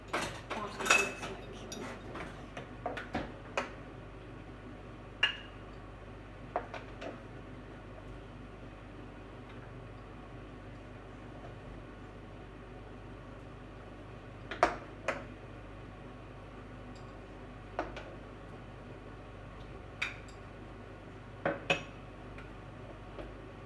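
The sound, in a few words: dishes and cutlery clinking while serving seafood chowder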